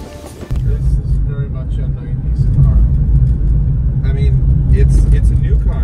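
Road rumble inside a few-years-old basic car with manual windows on Bonaire, a steady low engine and tire drone that grows louder after the first half second, with faint voices underneath.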